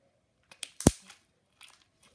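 Crunchy, jiggly slime squeezed by hand gives a few sharp, quiet crackles and pops in short irregular bursts, with one louder snap near the start and fainter crunches after a pause.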